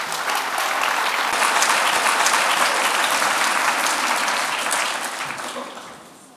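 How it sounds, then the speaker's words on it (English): A crowd at a talk gives a big round of applause for a student speaker, dense sustained clapping that holds strong for several seconds before fading out. "Ladies and gentlemen, a big round of applause for Jake Stocker"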